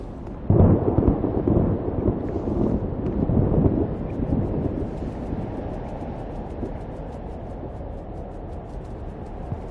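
A storm in the video game Life Is Strange, with a heavy low rumble of thunder and steady roaring wind that starts strong, then eases into a sustained blustery drone.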